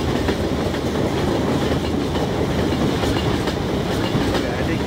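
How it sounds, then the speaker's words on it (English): Video game train passing close by, a loud steady rumble with rhythmic clickety-clack of wheels on rails filling the whole stretch without letup. "Oh, the train's coming."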